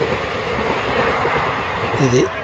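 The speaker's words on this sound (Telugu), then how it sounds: "పక్కన రైలు వెళ్తుంది, ఎంత స్పీడ్గా వెళ్తుంది." A train between Vijayawada and Machilipatnam rushes past close by, rumbling with rhythmic wheel clatter and a brief rising squeal, while someone speaks over it.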